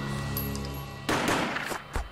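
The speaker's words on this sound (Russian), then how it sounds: "Прогремел выстрел, и она медленно повалилась на пол." A gunshot in the Max Payne video game, a sharp, loud blast cutting off a sustained tone, followed by a decaying echo and a second, smaller impact near the end.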